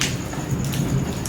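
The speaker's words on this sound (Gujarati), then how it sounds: "વીજળી થઈને અત્યારે સખત વીજળી ચાલુ જ છે અને વરસાદ પણ ચાલુ છે." Heavy rain pours during a thunderstorm as a dense, steady hiss of falling water, loud and unbroken throughout the short stretch.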